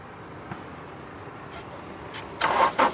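A 2016 Toyota Innova Crysta Z, in fully original condition, starts its engine on a single crank. Quiet hum gives way to loud, close cranking bursts near the end.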